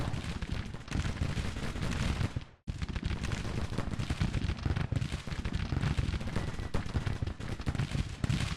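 Artillery air bursts on a Grand Tactician: The Civil War battlefield. Dense, rumbling barrages of booms and crackles go on without a pause, except for one abrupt cut to silence partway through.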